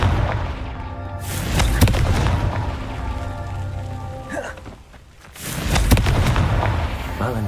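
Confringo explosive spell blast in the Hogwarts Legacy video game: two heavy, booming explosions with crackling debris, loud and close, the first rumbling on for a few seconds before a brief lull and a second powerful blast.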